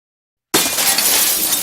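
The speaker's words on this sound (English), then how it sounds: "The sound of the glass shattering downstairs had done the same to his nerves." Glass shatters loudly after half a second of silence, a sharp breaking crash followed by a dense spray of tinkling shards that keeps ringing through to the end, with no voices.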